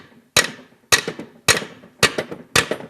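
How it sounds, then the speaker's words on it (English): Two hammers strike a small engine part together in five sharp metallic taps at an even rhythm of about one every half second, each hit ringing briefly, close and clear with no talk. "Let's try a couple hammers, the old synchronized tap here."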